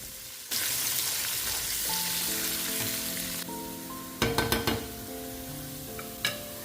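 Shallots, ginger, garlic and curry leaves hit hot oil in a pan with a loud, steady sizzle that starts suddenly, with a few sharp clatters of stirring near the end and no talking.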